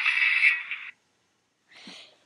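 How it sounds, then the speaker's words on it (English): A short, bright electronic swoosh, the iPod lock sound from a Rock Band Winterboard theme, plays for under a second, then after a brief silence a fainter, shorter echo follows. "whenever you lock your iPod, if you have the Rock Band Winterboard theme, it'll make a sound like this"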